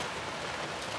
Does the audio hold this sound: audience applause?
no